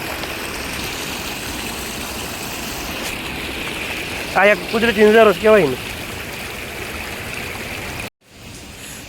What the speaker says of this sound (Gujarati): અહીંથી પાણી આવે છે, ઉપર કાંઈ નથી જુઓ તમે, પણ અહીંથી હરવાણા ફૂટીને આવે પાણી